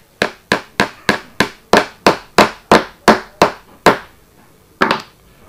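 A small hammer taps at a Hornby TT model railway track, about a dozen sharp, evenly spaced knocks in a steady rhythm, close and fairly loud, then a short pause before one final double tap.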